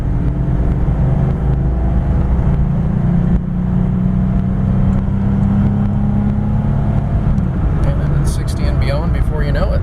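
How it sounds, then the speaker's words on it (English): A 1994 GMC Jimmy SLE 4x4 accelerating uphill under heavy throttle, a loud steady engine drone with rising tone and road rumble from inside the cab, ending in lighter rattles. "Going up a hill, putting maximum load on the car."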